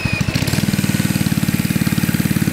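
An 80s Kawasaki mini bike with a new carburetor starts and settles into a loud, close, steady putting idle, its single-cylinder beat pulsing rapidly and evenly.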